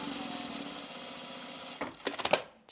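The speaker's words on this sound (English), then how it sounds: "we'll edge stitch it all along here" A sewing machine runs a steady, fast edge stitch along folded fabric, a continuous close mechanical whir that stops and gives way to a few clicks and clatters of the machine.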